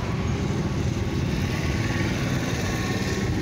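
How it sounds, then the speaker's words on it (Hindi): The water-cooled engine of a Powertrac 440 tractor runs steadily, giving a close, loud, continuous rumble with no pauses and no talking. "वाटर कूल्ड है ट्रैक्टर का इंजन। पावर ट्रैक का है यो 440 ट्रैक्टर"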